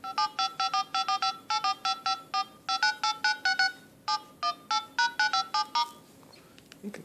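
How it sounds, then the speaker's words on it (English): Keypad tones on an iPhone 5 replica phone dialer sound as a rapid series of short, evenly spaced beeps, close and clear, with a brief tap at the end. "Phone dialer, so we can dial"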